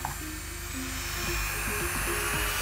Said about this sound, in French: Donc je vais mettre ma ponceuse